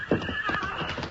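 Horses' hooves clip-clop and a horse whinnies in an old-time Western radio drama, the hoof beats rhythmic and close with a short neigh, no voices.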